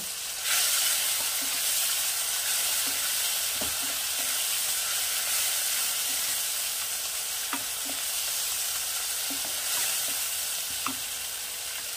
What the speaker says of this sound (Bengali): দিয়ে এর সঙ্গে তেলের সঙ্গে আমি ভাজা করব।